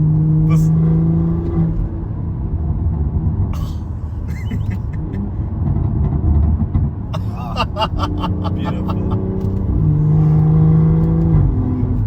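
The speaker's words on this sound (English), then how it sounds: "what sounds better than an inline 6, eh?" BMW 340i with its inline six engine, loud and close as it drives and revs through city streets in Pretoria, a steady rumbling drone with rising pitch sweeps, while a person talks over it.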